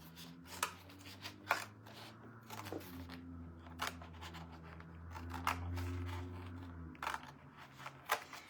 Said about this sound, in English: I'm using my fabric scissors on this